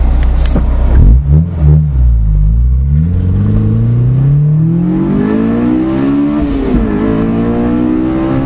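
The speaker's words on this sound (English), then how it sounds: "you can hear VTEC like 1st, 2nd, maybe 3rd gear" A high-revving 2001 Honda S2000 engine with intake, header and exhaust climbs sharply in pitch through VTEC, briefly drops at a shift, then screams upward again, loud and close.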